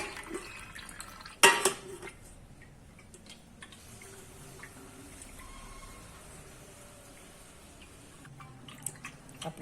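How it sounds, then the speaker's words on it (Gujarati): Whey drips from yogurt hanging in cloth to strain for shrikhand, a quiet scatter of faint, irregular drips in a still room, with one sharper clatter near the start. "તમે જોઈ શકો છો, બધું પાણી નીકળવા માંડ્યું છે."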